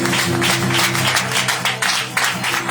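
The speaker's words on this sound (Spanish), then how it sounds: "de las palmas al Rey de Reyes, fuerte, fuerte" Church congregation clapping in rhythmic bursts over a sustained musical drone, the claps rising and falling in regular pulses, fairly loud and close.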